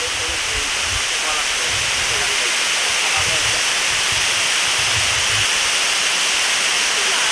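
The Cascadas del Nicho waterfall, a loud, constant broadband rush of falling water close by, with faint low voices murmuring underneath.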